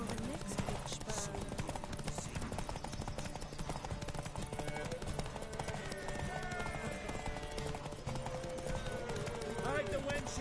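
Horses clip-clopping at a gallop in a race in The Witcher 3, a dense steady drumming of hooves with an occasional whinny, layered under game music and continuous voices.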